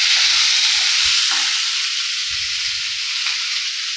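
Potatoes and peas for samosa filling fry in a pan on low heat, a loud continuous close hiss and sizzle with a few soft low stirring bumps underneath.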